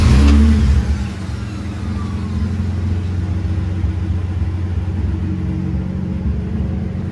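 1985 Toyota Supra engine cranking and catching with a brief loud burst, then settling into a steady low rumbling idle, close by and continuous.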